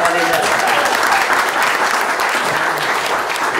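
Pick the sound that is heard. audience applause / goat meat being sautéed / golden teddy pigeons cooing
audience applause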